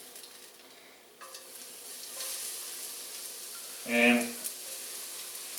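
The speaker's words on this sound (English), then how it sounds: "I've got a really hot pan here, hopefully, and I really thin sliced a little yellow onion." Thin-sliced raw yellow onion hitting a very hot pan for a cheesesteak, a steady soft sizzle with a brief louder burst of frying and clatter midway, fairly quiet and close.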